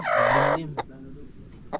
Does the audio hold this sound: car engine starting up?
no